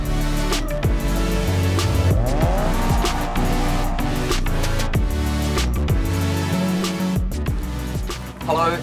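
A 2012 Mercedes AMG C63 engine revs hard to about 4,000 rpm on launch and screams through the gears while tires squeal loudly, close and sustained, with a final burst of high-pitched tire noise.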